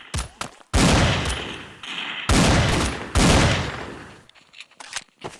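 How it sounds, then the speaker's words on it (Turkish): Automatic weapon fire in a video game, with three rapid bursts of shots, loud and close, separated by short pauses and followed by scattered fainter pops. "Öyle, öyle, öyle tak tak tak tak otomatik atış ya."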